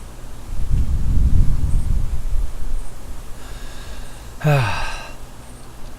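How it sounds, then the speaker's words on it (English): A deep, slow breath drawn in, a soft breathy rush lasting about a second, followed later by a brief gasp-like exhale with a voiced edge, close and alone. "It starts off with a deep breath in."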